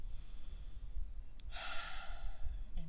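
A single deep breath is drawn in and slowly let out during a yoga flow on a mat, close and soft against a low steady background hum.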